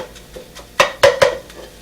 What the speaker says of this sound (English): I'm just going to take these out of the frying pan for a few minutes